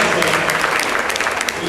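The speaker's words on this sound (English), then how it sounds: "With a round of applause for that" Audience applause at a Rotary district education gathering, a short burst of dense, fairly loud clapping from a crowd with a voice speaking over it.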